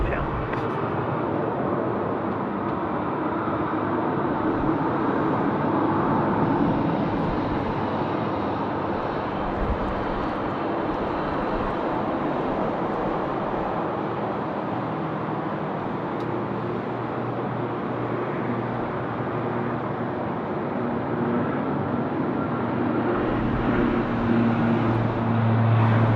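A jet landing at Sydney Airport, a steady broad engine roar that swells and holds, with air traffic control radio talk running over it.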